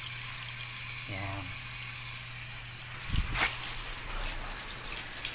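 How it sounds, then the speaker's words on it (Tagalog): Strong, high-pressure water spray hosing down a swimming pool filtration filter, a broad continuous hiss filling the whole stretch, with a voice briefly speaking over it. "buksan na natin tong tubig. Malakas naman ang dito, napakalakas ng pressure dito"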